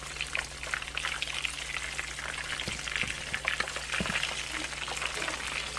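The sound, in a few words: chicken thighs frying in lard and shortening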